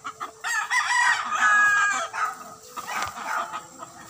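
Roosters at a gamecock farm raised for derby fighting crow in repeated drawn-out calls, loud and close, with overlapping crows and clucks throughout and no talk.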